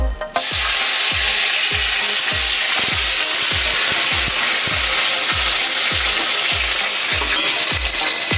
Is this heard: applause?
no